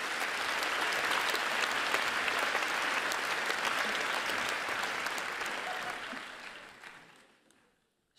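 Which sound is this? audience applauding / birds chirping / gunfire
audience applauding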